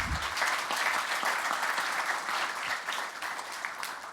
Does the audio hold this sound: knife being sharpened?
no